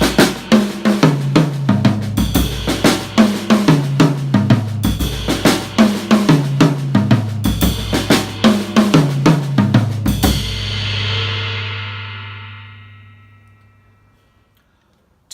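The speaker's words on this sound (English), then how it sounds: "We're going to play a little bit of ride cymbal and bass drum and incorporate the tom-toms as well." A drum kit plays a steady Afro-Caribbean fusion pattern spread across ride cymbal, bass drum and tom-toms, with a cascara feel; close, loud and even-paced for about ten seconds before the cymbals ring out and decay to silence.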